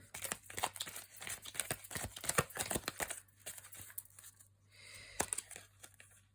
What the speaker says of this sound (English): I'm gonna shuffle again because 2 cards were trying to come out.